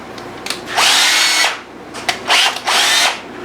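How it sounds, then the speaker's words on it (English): A power drill pre-drills holes in wood for drywall screws during dovetail joinery. It whines in two long, loud bursts with short taps of the trigger around them, close up and with no talk. "pre-drill 2 holes and then put a pair of drywall screws inside"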